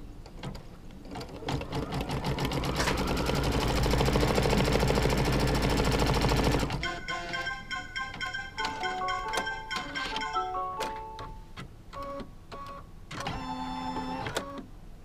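An embroidery machine stitches a placement line on a quilt block, first as a dense, loud rapid chatter, then as sparser, intermittent mechanical clicks and whirs.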